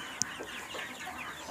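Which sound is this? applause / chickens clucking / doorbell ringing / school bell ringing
chickens clucking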